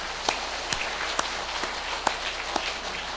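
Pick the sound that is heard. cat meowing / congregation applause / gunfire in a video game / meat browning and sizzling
congregation applause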